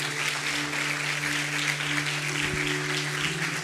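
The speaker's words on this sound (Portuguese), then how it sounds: "Alguém pode aplaudir ao Espírito Santo aqui?" A church congregation applauds together, a steady, full wash of clapping from many hands, with a faint low hum running underneath.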